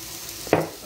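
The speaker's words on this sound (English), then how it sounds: "I know you hear the skillet sizzling over here." A quiet background sizzle from a hot skillet cooking breakfast sausages, broken by a brief clattering scrape of a utensil against the pan about halfway through.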